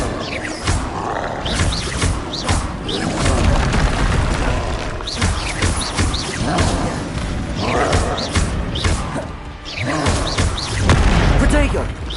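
Expelliarmus spells fire in the Hogwarts Legacy wizarding duel game, producing repeated heavy magical booms and thuds in loud waves, with crackling bursts between them.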